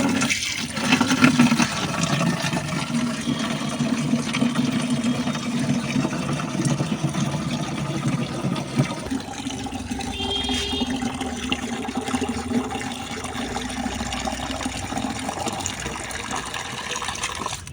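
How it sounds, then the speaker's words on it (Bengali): Water pouring steadily over potted plants in a rooftop garden, a continuous splashing gush close by that softens to a lighter trickle partway through, with no talking. "চলুন তাহলে গাছগুলোতে এবার জল দিয়ে দিই।"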